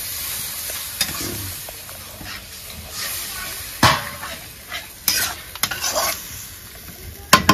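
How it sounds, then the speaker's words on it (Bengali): Water poured into a spiced curry of kohlrabi, soybean and egg in a hot pan, setting off a sizzle, then spoon scrapes and knocks as it is stirred, with some faint background noise. "এখন সেদ্ধ হওয়ার জন্য একটু জল দিয়ে দিচ্ছি।"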